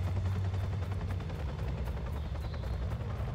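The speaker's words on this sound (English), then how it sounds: "I don't need to fight a helicopter." A helicopter in the video game Watch Dogs hovers nearby, its steady low rotor thrum and whine droning continuously at moderate volume with no speech.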